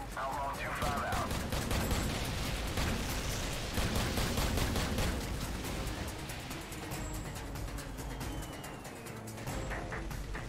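Gunfire in a military-style video game: dense, rapid bursts and rattling volleys run continuously for about ten seconds, with faint voices mixed underneath.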